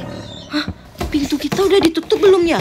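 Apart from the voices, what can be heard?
tiger roar sound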